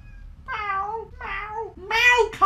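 A house cat meows several times up close, drawn-out tonal calls rising and falling, the last ones louder and more strained, with no talk over them.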